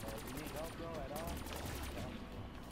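Rapid automatic gunfire in the Black Ops 3 Zombies video game, a dense continuous burst of shots under constant game noise and music.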